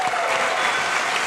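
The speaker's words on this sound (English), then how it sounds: "round of applause for real to the PAX Techs making it happen" Audience at a gaming convention developer panel claps in dense, steady applause, loud and continuous throughout.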